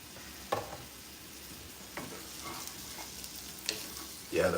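Onions and green chilies fry quietly in a pan, a faint even sizzle punctuated by a few soft utensil taps and scrapes, with a louder stir at the close.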